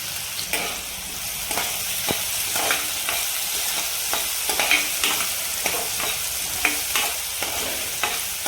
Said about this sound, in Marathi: कांदा टाकून घ्यायचा कांदा आपल्याला नरम करायचा नाही उगे मिनिटभर आपल्याला फक्त परतून घ्यायचं आहे